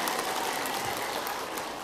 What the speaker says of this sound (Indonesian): Tepuk tangan atuh, Bu.